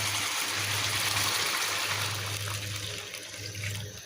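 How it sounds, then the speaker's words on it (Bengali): Hot water pours into a cooking pot in a steady splashing stream, with a low hum running underneath and gradually easing off. "গরম পানি দিয়ে দিলাম"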